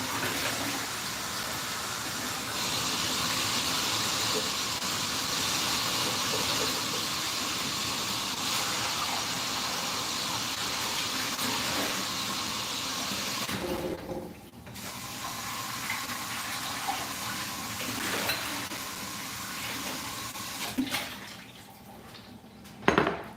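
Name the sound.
quick wash of cake decorating utensils with running water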